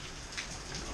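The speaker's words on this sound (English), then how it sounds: "Right now, it's pouring down rain in Florida, as you can tell." Heavy rain pouring down in Florida beside a grill, a steady, even hiss of drops falling on surfaces, alone and fairly soft, with no voices.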